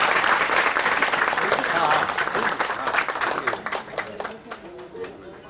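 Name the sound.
audience applause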